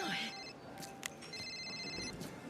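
A telephone rings indoors in two trilling bursts separated by a short pause, with faint voices in the background.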